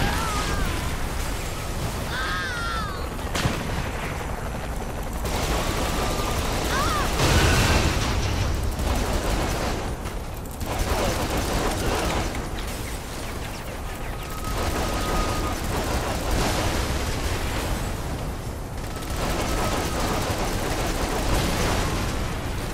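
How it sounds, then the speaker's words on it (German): Explosions and bursts of gunfire fill a chaotic action scene in the video game Saints Row The Third, loud and continuous for the whole stretch with repeated booms and no quiet gaps. "Boah, was hier explodiert?"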